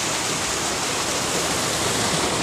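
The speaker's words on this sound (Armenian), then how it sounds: "Սա մեր գետն է, նայեք։" River water rushes in a steady, loud broadband roar close by, continuous and unbroken, with no voices.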